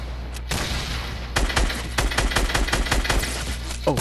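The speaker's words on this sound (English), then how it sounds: "shooting grenades at us" Grenades being launched in Fortnite: a rapid, loud barrage of sharp blasts and shots in quick succession after a brief quieter lead-in, dense and close, with no talking.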